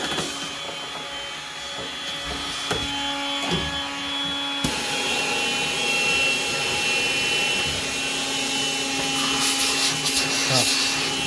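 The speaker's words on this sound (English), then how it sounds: "And then blow all the fluff out." A battery-powered vacuum blows fluff out of a Hotpoint tumble dryer during a service, a steady loud whining drone with a tonal hum that shifts to a rougher, fuller rush partway through.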